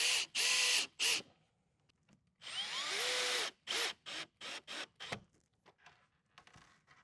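Power drill driving screws into a cabinet panel, several loud whirring bursts of varied length with short pauses, close and alone, ending in a run of brief trigger pulses.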